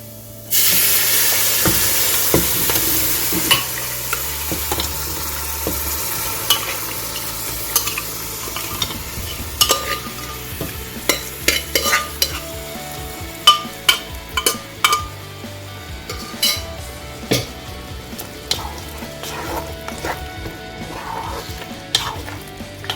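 Pressure-cooked mutton stirred into a pepper roast masala for a grandma-style mutton pepper roast, sizzling steadily in the pan with a bright frying hiss and a series of sharp spoon scrapes and clacks against the vessel.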